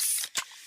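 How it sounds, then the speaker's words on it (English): A can of Pepsi cola cracks open with a short burst of fizzing hiss, then a brief pop and soft lingering sizzle of carbonation, close and quiet with no talk. "that's the sound of a freshly opened fizz-filled Pepsi"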